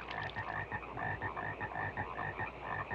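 Dense chorus of frogs croaking from the 1972 film Frogs, a steady overlapping stream of rapid, rhythmic croaks and trills, close and fairly loud with no voices.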